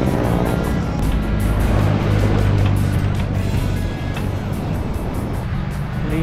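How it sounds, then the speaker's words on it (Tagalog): Fast cars rushing along the C5 road in Taguig, a steady loud roar of passing traffic with heavy low rumble and wind-like wash throughout, no talking. "Mas nakakatakot, mas mabibilis ang mga sasakyan."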